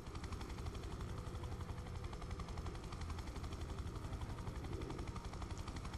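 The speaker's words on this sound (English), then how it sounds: "I wonder if helicopters are really this easy to move around." A helicopter in the video game Prototype 2 gives a steady, dense rotor thrum and engine roar that stays even and continuous throughout, fairly faint overall.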